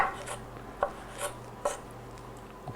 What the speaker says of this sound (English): basically we're just going to kind of chop these up